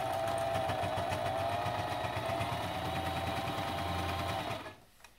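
Sewing machine backstitching a fabric mask, a steady close mechanical whir of the needle running for several seconds, then stopping abruptly near the end.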